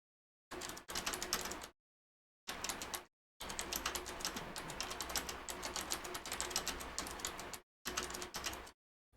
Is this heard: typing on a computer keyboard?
yes